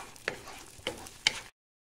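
A vegetable scramble being stirred in a pan, with three distinct scraping strokes spaced about half a second apart over a faint background, ending abruptly.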